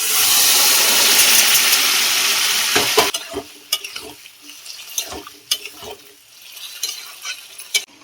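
Peas go into a pan of cooked-down spice masala for vegetarian ghugni: a loud, steady sizzle for about three seconds, then quieter frying broken by a series of sharp scraping stirs.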